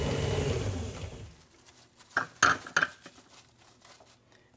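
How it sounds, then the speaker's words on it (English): Chocolate chip cookie dough with milk and vanilla is mixed in a bowl: a steady whirring rush at first, then quieter scraping with a few distinct clinks against the bowl. "Mix that in."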